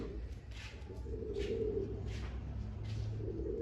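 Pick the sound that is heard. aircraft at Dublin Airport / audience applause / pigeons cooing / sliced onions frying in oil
pigeons cooing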